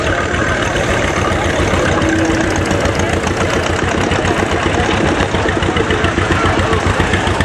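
A 1950 Ferguson TD20 tractor engine idles steadily at a country show, a loud close chugging with an even rapid knock that runs unbroken from start to finish.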